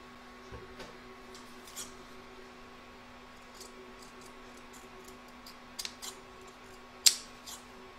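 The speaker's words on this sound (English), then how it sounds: "Now going to trim up as close as we can possibly can to the stitch line here" Scissors trimming fabric close to a stitch line on an embroidered placemat, faint, quiet snips scattered through near silence, with a sharper, louder cut late on.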